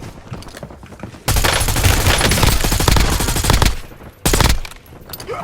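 Rapid automatic gunfire in the video game Call of Duty Warzone, a long sustained burst of crackling shots followed by a brief pause and another short burst, loud and close over faint game ambience.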